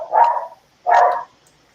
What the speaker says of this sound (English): So it was just people wandering around outside to set the dog off, of course.